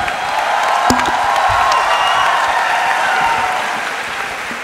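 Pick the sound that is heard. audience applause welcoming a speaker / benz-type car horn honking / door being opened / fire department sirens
audience applause welcoming a speaker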